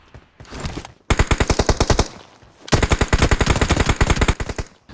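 Rapid automatic gunfire in a video game, two loud sustained bursts of closely spaced shots, each about a second or more long, separated by a short pause, with no talk over them.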